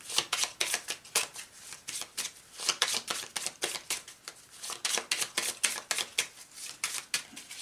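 A deck of oracle cards is shuffled by hand in a steady stream of crisp, rapid riffling and slapping bursts, close and fairly loud with no talking over it.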